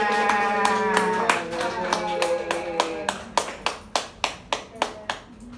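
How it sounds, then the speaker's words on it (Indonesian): Students in a classroom clap their hands in an even, rhythmic series of distinct claps that grow sharper and more separated toward the end, with voices heard at the start. "Tepuk tangan."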